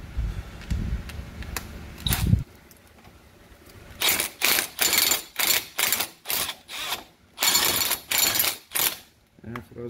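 A ratchet with a 14mm socket works a nut on a Polaris TrailBlazer A-arm while the nut spins in place. A low knock comes first, then a run of quick, close ratcheting bursts in a steady rhythm.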